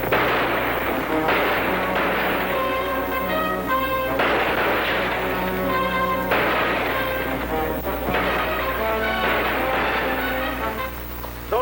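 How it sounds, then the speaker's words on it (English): Gunshots in a 1945 western serial, a rapid series of sharp cracks repeating in bursts over a continuous background score, loud and close with no talking. "Those shots, they come from the reach."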